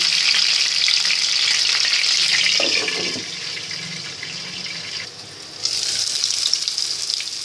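Beef kofta balls frying in hot oil, a loud continuous sizzle and spatter that thins briefly before swelling again, with a short bubbling burst in the middle and no talking.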